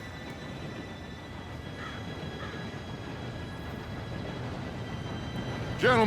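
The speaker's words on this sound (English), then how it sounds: "Train should be here any minute now." A train approaching in the western video game Red Dead Redemption 2, heard as a steady low rumble that holds throughout, ending with a sharp high-pitched squeal near the close.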